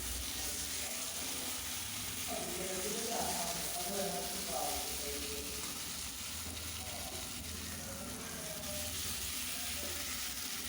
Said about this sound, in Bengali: এখন আমি এটাকে ভালোভাবে ভেজে নেব